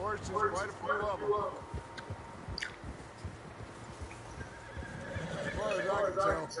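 Horses in the video game Red Dead Redemption 2 whinny and neigh nearby, with soft hoof sounds and outdoor ambience between the calls.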